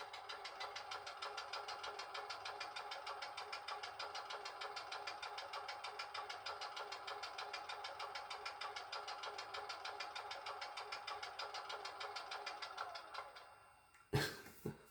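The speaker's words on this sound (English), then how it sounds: "You just got to love that compressor." A compressor runs on a model vehicle, a fast steady mechanical chugging buzz with even rapid pulses, close and moderately loud, cutting off near the end before a couple of brief clicks.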